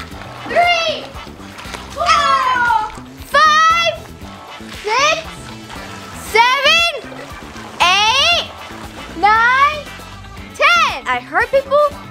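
Children shout and call out over splashing in an empty backyard pool's water during a game of Four Corners, with bursts of voices coming and going and a constant wet, open-air background.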